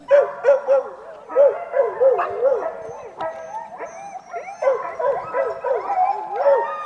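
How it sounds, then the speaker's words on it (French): Excited dogs gathered before a forest dog-hike in the Sarthe, yipping, whining and howling in quick repeated bursts, loud and close, several voices overlapping continuously. "L'heure du départ approche et l'excitation commence à se faire sentir chez les chiens qui s'impatientent."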